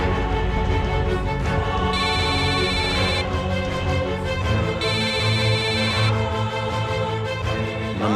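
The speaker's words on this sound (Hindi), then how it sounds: "ना माधवी फोन उठा रही है, ना ईशा फोन उठा रही है" A telephone rings unanswered in two repeated electronic ringtone bursts over a dense music or drama background, with no one picking up.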